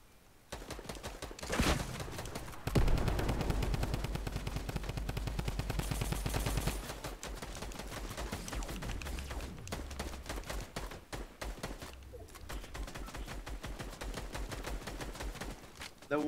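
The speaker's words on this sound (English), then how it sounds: "Wait, where are they shooting at?" Gunfire in the Fortnite video game keeps up through most of the stretch as dense, rapid shooting at moderate loudness, with several bursts and short pauses mixed into game sounds.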